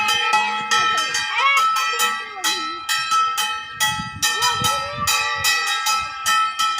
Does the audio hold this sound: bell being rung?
yes